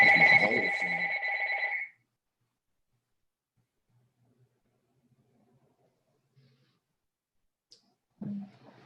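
A mobile phone rings loudly in a classroom for about two seconds with a steady electronic trill, then cuts off into near silence before a faint voice returns at the end.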